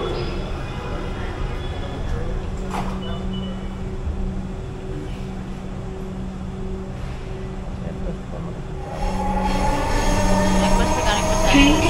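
A Dhaka Metro Rail train running between Mirpur 10 and Uttara gives a continuous interior rumble with squealing wheel tones, growing louder near the end.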